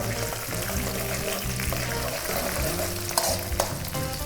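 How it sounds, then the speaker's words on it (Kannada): Chana dal and urad dal frying in a pan: a steady, close sizzle with occasional stirring scrapes, running under background music. "ಕಡಲೆಬೇಳೆ ಉದ್ದಿನಬೇಳೆ ಸ್ವಲ್ಪ ಕಲರ್ ಚೇಂಜ್ ಆಗೋವರೆಗೂ ಫ್ರೈ ಮಾಡ್ಕೊಂಬಿಡೋಣ"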